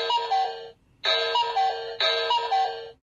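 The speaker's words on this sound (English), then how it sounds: "To hear your current chime sound, press the doorbell button." A Toucan wireless video doorbell chime plays a short multi-tone melody three times in a row, each about a second long with brief gaps, clear and close.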